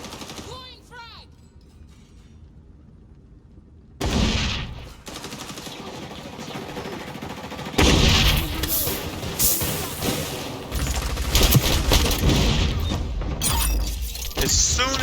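Rapid gunfire and a thrown frag grenade in a first-person shooter video game, with bursts of loud automatic fire and sharp impacts after a quieter opening.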